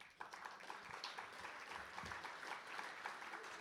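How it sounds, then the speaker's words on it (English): Faint, thin clapping from a dinner audience at a gala event, scattered and distant, holding at low level for a few seconds. "Was that a sympathy clap?"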